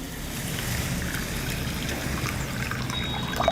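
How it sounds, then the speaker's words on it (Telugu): Water pours and trickles over moong dal and rice in a bowl as they are washed, a steady close splashing flow with faint grain rustle and no talk. "ఇప్పుడు ఈ మన పెసరపప్పు బియ్యం నీళ్ళు వేసుకొని బాగా కడిగిన తర్వాత"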